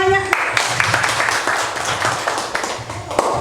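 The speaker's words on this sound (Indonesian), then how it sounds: "Tepuk tangannya." A small group at a teacher training session claps together for about three seconds, with scattered sharp hand claps over a steady wash of applause and a voice audible at the start.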